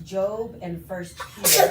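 A single sharp sneeze bursts out near the end, loud and close, right after a stretch of ordinary conversational speech.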